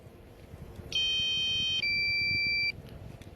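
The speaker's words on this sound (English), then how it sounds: "Can't turn off the beeping" A drone's low-battery warning, a steady electronic beeping tone, sounds for nearly two seconds in cold weather, shifting pitch midway, loud and close over faint background noise.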